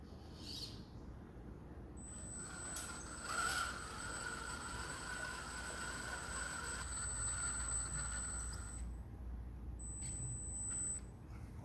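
A URGC Predator Gen 8 RC car on stock front gears runs with a steady high electric whine, a thin tonal drive note holding for several seconds over background hiss, pausing and then returning briefly.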